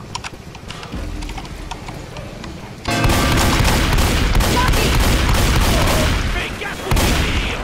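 Several players fire together on a special infected in Left 4 Dead 2, a sudden, loud, dense barrage of game gunfire that swells after a quieter rumbling start and keeps rattling for several seconds.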